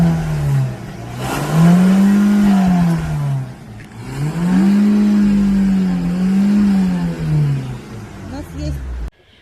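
A car engine revs up and down several times in slow rising and falling sweeps, loud and close, with talk underneath.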